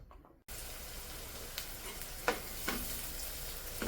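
Finely chopped onions, three to five of them, frying in hot oil over high heat, a steady close sizzle that starts abruptly after a brief quiet moment, with occasional stirring scrapes and pops.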